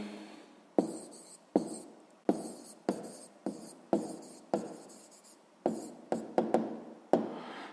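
Pen strokes scratching out an answer in a sixth-grade maths exercise, a dozen sharp bursts in irregular rhythm, each starting with a tap and trailing off in a short scrape, close and moderately quiet.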